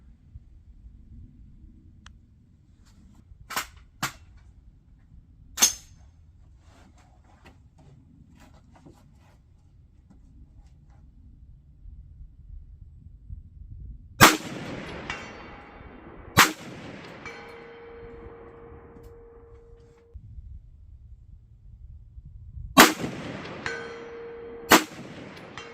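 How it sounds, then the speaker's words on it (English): .300 Blackout Sellier & Bellot rounds fired at a 16-inch steel gong out at 200 yards, sharp shots spaced apart, several followed by a distant metallic ring, with quiet stretches between them. "go ahead out to 200 there on my 16-inch steel gong, and we'll put those last 4 rounds down there on it"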